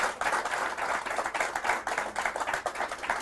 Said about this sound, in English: I'm actually going to ask everybody to clap properly for everybody on the panel